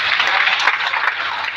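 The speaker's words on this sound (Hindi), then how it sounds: "तो अपने लिए तालियां बजाओ।" Seminar audience clapping together in a dense, steady burst of applause, close and fairly loud, lasting about a second and a half.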